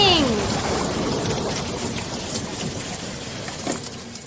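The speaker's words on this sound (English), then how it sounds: "It's raining!" Steady rain hiss fills the scene, a dense wash of falling water with a few brief high whistles at the start.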